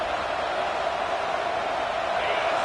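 Steady, dense stadium crowd roar fills a college football video game, a constant wash of noise with no distinct cheers standing out.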